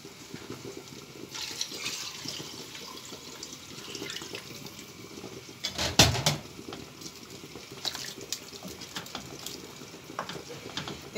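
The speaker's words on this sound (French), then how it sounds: "Et vous allez ajouter un peu d'eau parce que l'eau n'est pas assez." Water pours into a cooking pot of rice simmering with bay leaves, okra and eggplant, a steady running splash near the mic with a brief louder burst midway, no talking.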